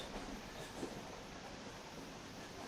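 A low, steady train rumble with a faint rhythmic clatter, heard from inside a carriage during a ride in The Franz Kafka Videogame, continuous and fairly quiet, with no talking.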